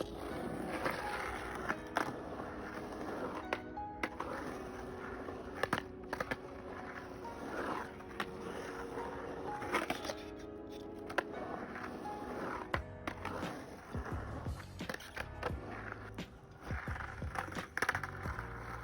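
Skateboard wheels rolling and clacking over the concrete mini ramps of Carroll skatepark on a cold day, a steady rumble with repeated sharp knocks and clatters from near range, no talking.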